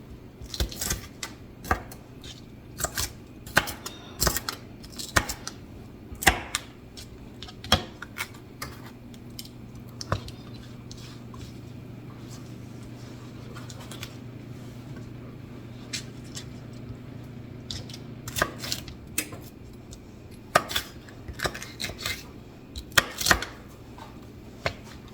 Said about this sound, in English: I am going to just chop this down